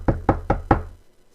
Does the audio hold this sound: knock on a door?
yes